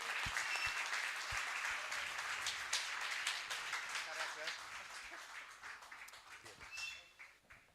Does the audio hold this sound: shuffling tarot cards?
no